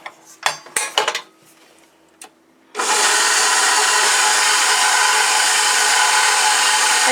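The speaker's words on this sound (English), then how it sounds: "I'm going to put the paddle on and I'm going to start mixing it together" Stand mixer with the paddle attachment fitted, mixing gluten-free bread dough: a few clanks and knocks of the paddle being attached, a short quiet, then the motor starts and runs at a steady, loud, continuous whir.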